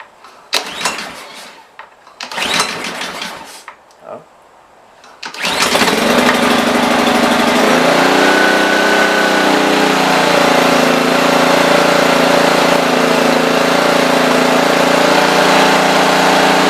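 A Honda small engine, freshly serviced with a new filter and new oil, is pulled to start after a few hits and then settles into a steady, loud idle that continues alone.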